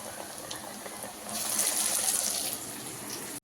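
Corn vada deep frying in peanut oil, a steady hissing bubble that swells louder midway into a bright, rushing sizzle before cutting off abruptly.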